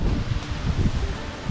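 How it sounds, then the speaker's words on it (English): Wind gusting through leaves and brush outdoors at a summer bass-fishing spot by the water, a steady broadband rustle with low rumbling buffets of wind noise swelling and easing throughout. "And there comes the wind again."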